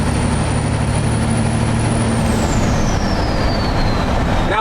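A truck cruising off the gas on a highway near Atlanta, Georgia, gives a loud, steady roar of road and wind noise inside the cab. A thin high whine slides gradually downward in pitch.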